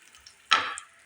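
One spoonful of cumin and one of white sesame drop into hot refined oil with a single short, sharp sizzle that fades quickly to quiet.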